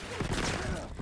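Enemy infantry gunfire in a winter combat video game: a dense, noisy burst of shots crackling over about a second, loud and close, with no clear gaps between reports.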